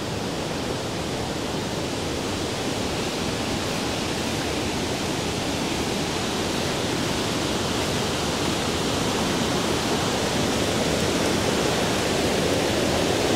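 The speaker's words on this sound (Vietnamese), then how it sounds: "nước suối dưới kia là chảy rất là mạnh như kiểu một con suối luôn đấy" Mountain stream below rice fields, water rushing strongly in a steady, dense broadband roar that stays constant and fairly loud throughout, with no voices.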